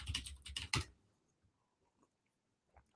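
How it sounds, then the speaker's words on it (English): Rapid bursts of tapping on a computer keyboard, several quick clustered keystrokes up close in the first second, then near silence with a couple of faint isolated clicks. "I call any kind of tapping on your keyboard the Google"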